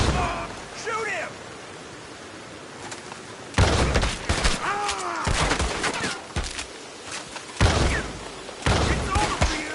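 Gunfire from the Red Dead Redemption 2 video game, a series of sharp shots and bursts in irregular clusters, loud and close, mixed with game sound and shouting voices.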